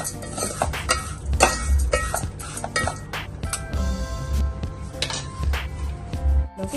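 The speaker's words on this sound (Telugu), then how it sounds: "బ్రౌనిష్ వచ్చే వరకు వేపుకుందాం" Vermicelli (samiya) frying in a pan at home, with repeated clinks and scrapes of a metal spoon stirring against the pan over a soft sizzle, close and fairly loud.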